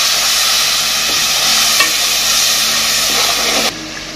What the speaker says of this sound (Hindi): मिक्स करेंगे 2 से 3 मिनट तक भुनाई करेंगे।